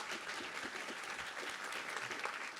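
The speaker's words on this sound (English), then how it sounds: "First round of applause for them as well." Audience applause for a panel at a Twitch convention session with NASA, steady and fairly distant, filling the whole short stretch without talk.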